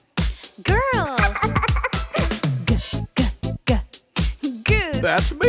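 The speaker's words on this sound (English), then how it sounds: "Goose." A goose honks in a children's preschool learning program, with a few warbling, nasal calls set among choppy music and vocal snippets at close range.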